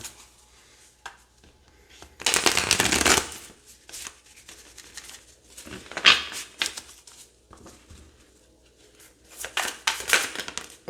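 Tarot cards being shuffled by hand, with several close, crisp riffling bursts separated by quieter handling and soft tapping.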